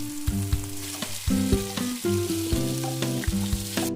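Onion, ginger and tomato sizzle and fry in a hot pan for a tochong bangus sauce, a steady crackling hiss broken by repeated scraping stirs and clinks of a utensil, close and alone.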